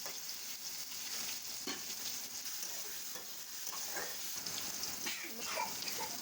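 Arum stolons stirred in a pan with dried fish and onion give a steady soft sizzle, with scraping stir strokes recurring throughout and no talking.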